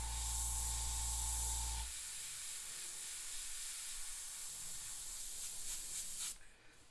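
An airbrush sprays paint on a custom pink fire-and-skull paint job, a steady, close hiss that runs throughout, with a low hum at first that drops away before the spray tapers near the end.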